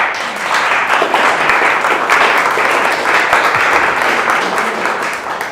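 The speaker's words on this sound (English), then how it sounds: "So please give him a warm round of applause." A crowd at an indoor meetup event breaks into warm, sustained applause, dense steady clapping filling the room for several seconds, close and loud, with no speech over it.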